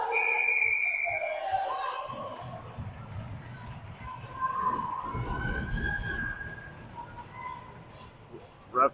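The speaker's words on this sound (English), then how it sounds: "Ref blew a whistle on a loose puck" At a women's ice hockey game, a referee's whistle shrills over the arena noise, with a commentator talking throughout and crowd ambience underneath.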